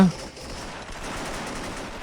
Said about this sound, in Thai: เข้ามาก็คือยิงกันระเบิดระเบ้อเลยฮะ